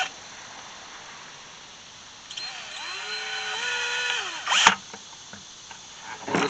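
A power drill bores through wood, whirring up and running steadily for a couple of seconds, its pitch rising then dropping, with a sharp knock as it stops amid steady background hiss.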